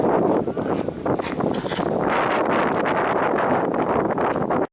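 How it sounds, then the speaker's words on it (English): Strong wind blows outdoors at Hadrian's Wall near Housesteads Roman fort. It buffets the microphone as a loud, continuous rumbling roar with rustling gusts and no voices, then stops abruptly at the end. "I'll just turn around because the wind's blowing"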